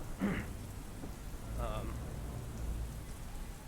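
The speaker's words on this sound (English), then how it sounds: "it seems that the rain is just kind of starting" Rain falling steadily near the Yosemite entrance, a soft even wash just starting up, with brief faint sounds over it and no speech.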